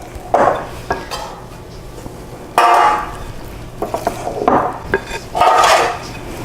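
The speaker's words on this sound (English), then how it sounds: "tap the flour around the pan." A metal 9x5 loaf pan being tapped and knocked to spread flour around it, producing several loud close clattering bursts separated by short quiet gaps, with lighter rattles between them.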